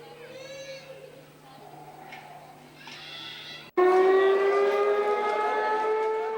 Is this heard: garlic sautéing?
no